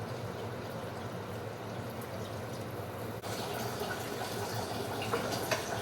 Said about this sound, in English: I'm going to get some more water to add to this.